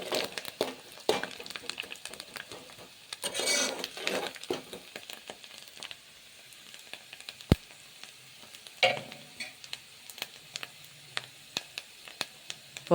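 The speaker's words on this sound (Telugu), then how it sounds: "మనకి ఆనియన్స్, కరివేపాకు, కొత్తిమీర, పోపు అన్నీ బాగా ఫ్రై అయ్యి మనకి క్రిస్పీనెస్ వస్తాయి" Tempering of onions, curry leaves and coriander frying in hot oil for an Andhra-style spinach dal, with a crackling sizzle that swells and fades in bursts alongside scraping stirring sounds.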